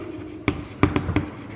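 Marker or chalk taps and short strokes on a board in a classroom, four quick distinct scratches over a faint background hum.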